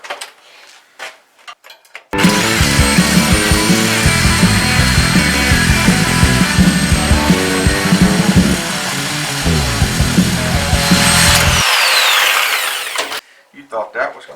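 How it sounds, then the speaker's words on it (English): A power tool cutting through solder on a 1948 Ford sedan body, a loud continuous grinding whine that runs steadily for about nine seconds, with brief voices heard before it starts and after it stops. "it's better when you get it out and you're cutting through solder instead of weld"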